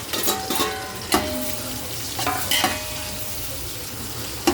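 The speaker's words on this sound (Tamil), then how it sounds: "பச்சை மிளகாய் நல்லா வதங்கட்டும்." Onions and green chillies fry in oil with cinnamon, cardamom and cloves for chicken biryani, a loud, close, continuous sizzle broken by several scraping stirs of the pan, with no talking.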